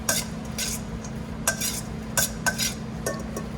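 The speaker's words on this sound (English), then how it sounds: "we want to just toss all of the ingredients with the vinaigrette just gently in a bowl" Salad ingredients tossed gently with vinaigrette in a bowl in a restaurant kitchen: repeated light clinks and scrapes of utensils against the bowl in irregular bursts over a low steady kitchen hum.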